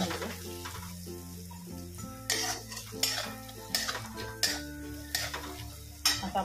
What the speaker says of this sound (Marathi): सर्व छान पैकी आपण मिक्स करून घ्यायचं.